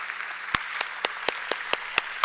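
Audience applause at the National Literature Prize 2025 ceremony honoring Efraim Castillo, heard as sharp, evenly spaced claps in a quick steady rhythm over a faint background hiss.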